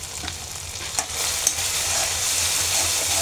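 A spice paste of ginger, onion and black cumin with green chilli, turmeric and salt sautés in oil, giving a bright continuous sizzle with a couple of brief stirring scrapes and no talk.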